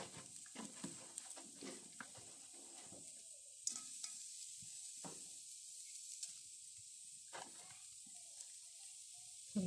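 Chopped onion and garlic sizzle softly in a wok, making a faint, continuous hiss. Scattered clicks and stirring scrapes come through close by. No one is speaking.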